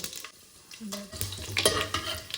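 Whole spices crackle as they hit oil and a spoon of ghee heated in a pressure cooker, with a stirring scrape and a soft sizzle rising midway, close and fairly loud.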